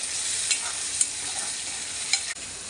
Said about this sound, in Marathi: आता टोमॅटो टाकणार टोमॅटो असं हलवून पातून परतून घ्यायचं